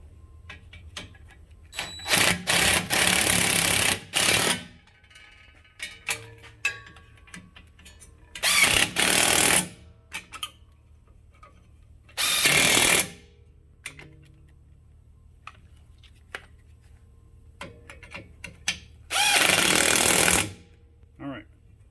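An impact gun snugging up a car's rear end bolts in repeated short, loud rattling bursts separated by pauses, with quieter clinks and handling noise in between.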